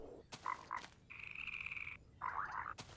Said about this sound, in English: Frogs, frogs, frogs.